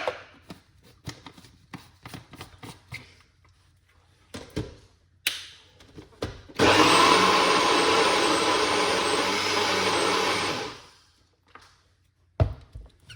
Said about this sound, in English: And we're going to blend up this because it's a little bit too much.